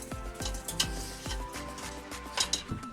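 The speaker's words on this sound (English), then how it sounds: "Get all those beautiful sticky bits that are on the bottom of the pan" A pan being deglazed with wine sizzles as a utensil scrapes the sticky browned bits from the bottom, with quiet scraping strokes and clinks of metal.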